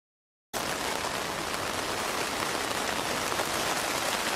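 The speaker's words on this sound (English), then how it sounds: "It's raining very heavily." Heavy rain drums steadily on an allotment shed, a dense, loud and unbroken hiss that starts abruptly and holds at an even level with no voices.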